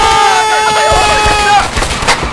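Rapid bursts of gunfire crackle over a musical tone, loud and close, with a few sharp shots trailing off near the end, in the video game A Way Out.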